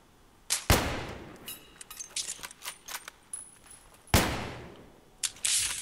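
Gunfire in the video game Battlefield 3: a few loud, sharp shots with ringing decay, separated by lighter clicks and metallic clatter, with no voices.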